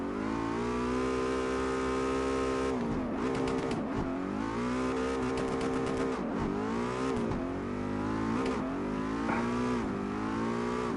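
A Mustang in CarX Drift Racing Online drifting on a racing tune: a loud, buzzing engine holds steady, then revs up and down in rapid swings as the car slides, with brief tire squeal and no talk.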